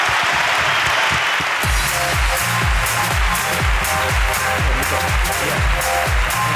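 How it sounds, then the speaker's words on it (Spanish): Live audience applauding at a comedy podcast taping, a loud, dense wash of clapping that swells after a quieter start with a steady beat of rhythmic claps running through it. "Aplauso para la ruina de Antia"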